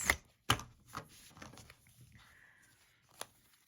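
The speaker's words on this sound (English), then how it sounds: "hand over hand shuffling" Quick papery riffles of tarot cards being shuffled hand over hand, a few sharp bursts then softer patter, close up with no talking.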